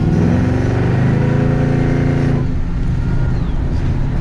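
A 1972 Chevrolet C10 truck with a Whipple-supercharged LS3 crate engine cruises, its loud, steady engine drone rising in pitch and then easing off. The sound is close and continuous, heard from the cab, with no talk over it.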